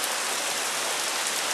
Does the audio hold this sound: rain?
yes